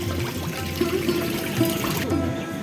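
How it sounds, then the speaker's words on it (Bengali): People wade through the shallow water at the entrance of the Panchalingeswar temple in Balasore, feet swishing and sloshing in a steady, rhythmic splashing close by. "এই যে আমরা এখন এই জলের মধ্য দিয়ে যাচ্ছি।"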